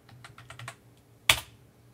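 A password tapped out on a Mac computer keyboard: a quick run of light keystrokes followed by one louder key strike, likely Return, close and quiet.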